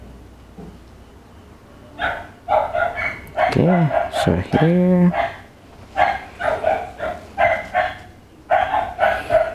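A neighbor's dog barks repeatedly in loud, clustered bursts with a few whimpering yips, close and insistent, while someone talks briefly during a painting session indoors.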